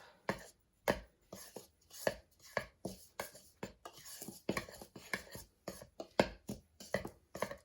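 Dry flour, salt and cream of tartar stirred together in a bowl for homemade playdough, a steady run of close, brisk scraping and tapping strokes with short pauses between them.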